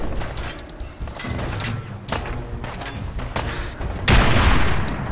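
Gunfire in the video game Fallout 4, a rapid series of loud shots and bursts with a heavy booming blast near the end, continuous and dense, no talking.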